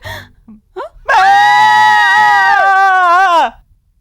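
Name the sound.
woman screaming in fright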